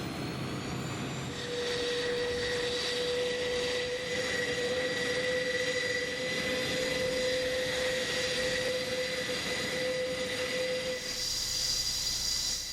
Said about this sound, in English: the 4 turboprops spool up in sequence